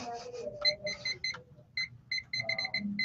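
Alarm clock going off with bursts of rapid electronic beeping in short repeated clusters, fairly close, alternating with a voice talking between and over the beeps.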